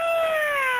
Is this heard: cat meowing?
yes